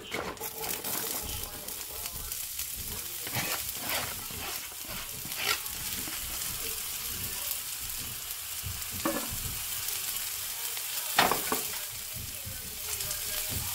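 Onion fries in a pan for bistec ranchero, giving an even, fairly quiet sizzle with scattered crackles and pops throughout.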